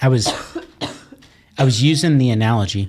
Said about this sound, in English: I don't know what you do for a cough.